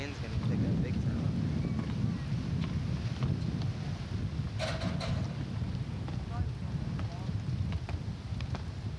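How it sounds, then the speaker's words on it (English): Wind buffeting a rented 1985 camcorder microphone outdoors in St. Pete, Florida, producing a constant loud low rumble throughout, with a brief brighter burst partway through. "The wind's gonna pick up big time."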